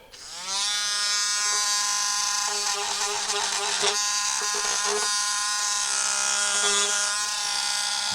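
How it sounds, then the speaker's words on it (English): A worn Dremel rotary tool runs continuously at high speed with a steady whine, used in making a vacuum chamber for resin casting, close and loud with small shifts in pitch as it bites into the work. "There's my Dremel tool."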